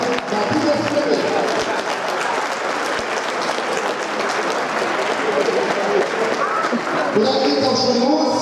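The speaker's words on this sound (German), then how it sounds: "einen dankbaren Applaus für Matthias Melle." A roomful of players and spectators at a youth chess team tournament applaud a team leader, dense loud clapping sustained for several seconds with a few voices mixed in near the end.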